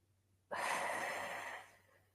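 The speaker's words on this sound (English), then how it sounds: "You need to breathe in through your nose, not through your mouth" A single long inhalation through the nose as part of a calm breathing exercise for panic, a near, soft rushing breath lasting about a second and a half, alone with no talking.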